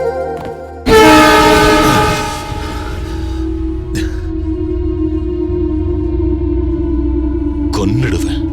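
A running train gives a loud horn-like blast that fades into a steady rolling rumble with a sustained tone, and brief voices cut in later.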